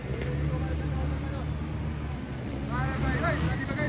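A motocross motorcycle engine races at a competition, a steady roaring drone with a rising whine toward the end, heard under wind noise and an excited commentator.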